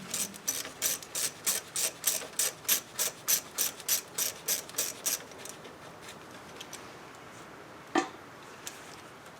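A ratchet clicks rapidly in a steady run of about fifteen strokes while removing a nut from the ABS sensor on a 2007 Honda Accord, then slows to a few faint clicks, with a sharp metallic knock near the end.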